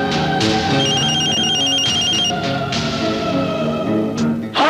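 A telephone rings repeatedly in a tense scene from the 2003 film Darr, the electronic ring pulsing in short bursts over music, loud and close.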